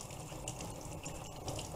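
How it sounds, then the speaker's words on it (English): Running water splashes close by as someone wets their face during a skincare routine, a steady, quiet gush with no voices. "I'm gonna wet my face"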